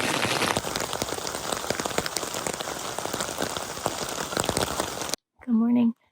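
Rain drums steadily on a tent during an Appalachian Trail thru-hike, a dense close patter that cuts off abruptly near the end, followed by a brief loud tonal sound.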